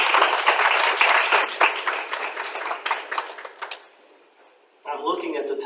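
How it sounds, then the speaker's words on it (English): A crowd at an annual meeting claps warmly for staff, the applause thinning into a few scattered claps and then silence before a voice begins talking. "Let's give our team a round of applause."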